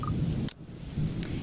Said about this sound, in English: The rhythmic pitter-patter of the rain fills the early morning silence with a steady beat.